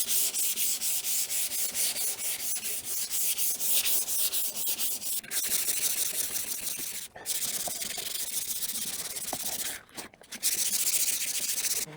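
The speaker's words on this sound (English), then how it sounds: "I'm just going to go over the entire thing with the 400 grit" Hand sanding with 400 grit sandpaper on an RV doghouse surface makes a close, continuous scratchy rubbing in back-and-forth strokes, with a few brief pauses.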